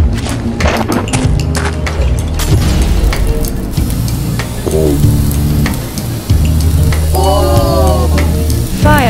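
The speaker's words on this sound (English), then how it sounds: "Fire looks amazing in RDR2. And gradually burns grass as it propagates." Grass fire burning in the Red Dead Redemption 2 video game, a loud continuous crackling and sizzling roar with heavy thumps, mixed with game music tones and a few rising whistle-like sounds, with no talking.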